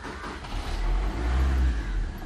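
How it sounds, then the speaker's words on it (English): First-generation Maruti Suzuki Swift engine cranking and catching, settling into a steady low rumble that grows slightly louder, close by with no talk. "So let me try starting the vehicle."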